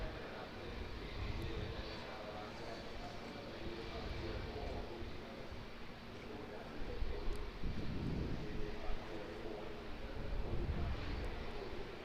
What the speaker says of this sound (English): So our Air Chatham's ATR that we saw getting towed earlier, off to the Chatham Islands, coming in as our Palmerston North ATR